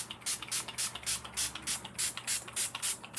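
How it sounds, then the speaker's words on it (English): Repeated short hissing bursts from a spray bottle misting water over fresh paint on a card project, about ten evenly spaced pumps in quick rhythm, close and fairly loud. "I'm just going to use the spray bottle. And I'm going to mist this."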